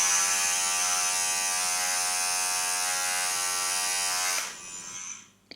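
An electric nose hair trimmer runs close by with a steady, high-pitched motor buzz for about four seconds, then switches off and winds down into quiet.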